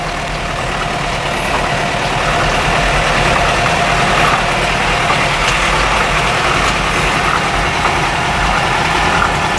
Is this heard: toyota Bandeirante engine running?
yes